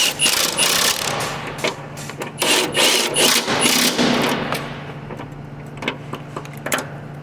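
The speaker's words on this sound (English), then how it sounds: "big electric ratchet here with my 17 and the 1/2-inch swivel on it. Tighten down these 3 bolts." Big electric ratchet with a 17mm socket on a 1/2-inch swivel tightening three bolts during Honda Odyssey timing belt work, heard as several loud, close bursts of rapid mechanical rattling separated by short pauses.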